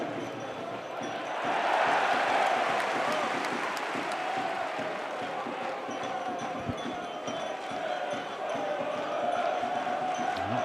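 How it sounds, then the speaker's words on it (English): Portsmouth supporters fill Fratton Park with a dense, roaring football crowd during a Championship match against Oxford United, a loud swell early on then sustained chanting and noise, with a commentator's voice running underneath. "it very much sounds as if their crowd are here today as well"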